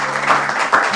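A brief burst of applause rises from the audience at a school debate semi-final, with a couple of louder swells over a dense clapping wash.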